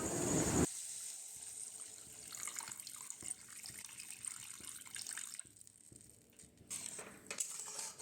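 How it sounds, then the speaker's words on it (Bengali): Water poured from a vessel into cooked-down masala for a bata fish jhal curry: a brief burst of splashing, then quieter trickling, bubbling and a few light metallic clinks close by. "এরপর পরিমাণ মতো জল দিয়ে দেবো।"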